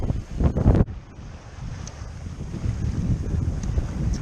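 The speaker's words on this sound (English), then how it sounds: "Wind's picked up." Strong wind buffeting a microphone aboard a Nova 28 sailboat sailed solo, with heavy gusty rumble, a loud burst early on, then steady roaring wind and water rush, no talking.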